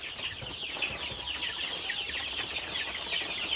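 Chickens and chicks on a Philippine poultry farm cluck and chirp steadily throughout, a dense flock chatter with no voices present.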